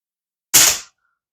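A single sharp crack from a Crosman 1377 air pistol firing an Apolo 9.0 domed pellet, close and loud, then fading within a fraction of a second into silence.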